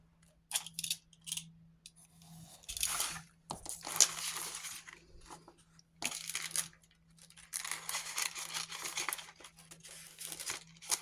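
Scissors snipping the edge off a paper craft piece, with crinkly bursts of cutting and handling spread unevenly across several seconds, close and moderately quiet with pauses between.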